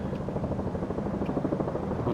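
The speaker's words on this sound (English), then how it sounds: "but that is one loud chopper" A loud helicopter passes overhead near the M4 Bridge over the Nepean River in Penrith, Sydney, its rotor thudding in a dense, fast rhythm that holds steady throughout, with no one speaking.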